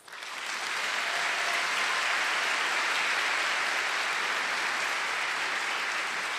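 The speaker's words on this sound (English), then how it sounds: "Can we give them a round of applause?" Audience at a nursing and health sciences hooding ceremony bursts into applause, rising quickly from a soft start into a sustained, even wash of clapping that holds steady throughout.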